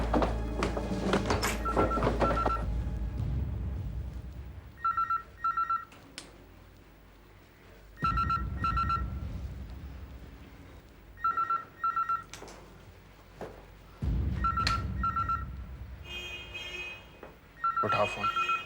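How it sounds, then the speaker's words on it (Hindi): A telephone rings again and again in short paired bursts, each ring clear and fairly close, separated by pauses and by heavy dramatic thuds and swells. "उठाओ फोन।"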